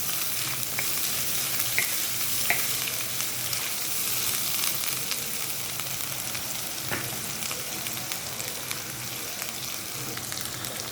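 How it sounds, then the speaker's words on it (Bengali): Green chilli masala with salt and turmeric fries in a pan with a dense, continuous sizzle, while occasional scraping knocks suggest stirring throughout. "দিয়ে ভালো করে কষিয়ে নেব।"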